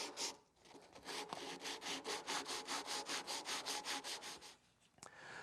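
A handsaw rasps back and forth in a wood kerf, widening it in a quick, even rhythm of about a dozen strokes, close and clear, with brief scrapes before and after.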